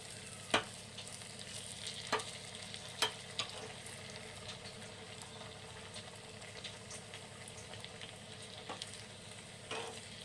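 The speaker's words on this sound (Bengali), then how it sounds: "তেলটা দেখো গরম হয়ে গেছে, এবার আমি ঢেলে দিচ্ছি এটা" An ingredient tipped into moderately hot oil and left frying, a low steady sizzle with scattered sharp clicks and pops, fairly quiet and without voices.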